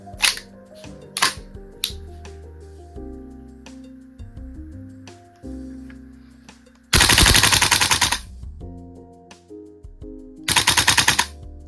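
A VFC Colt M727 gas blowback airsoft rifle fires full-auto bursts in a rate-of-fire test, two loud, rapid, sharp rattling strings with clacking handling noises and metallic clicks between them, close to the microphone.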